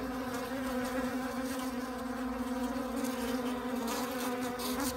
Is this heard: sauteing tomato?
no